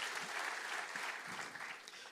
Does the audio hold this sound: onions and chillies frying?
no